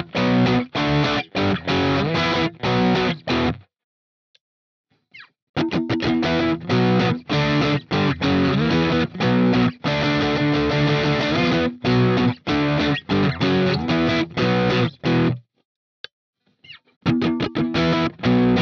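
Harmony Silhouette electric guitar through a compressor into a Universal Audio Volt 2 interface and the Neural DSP Archetype Pliny amp plugin plays loud distorted chords and riffs in bursts, with short silent pauses between phrases.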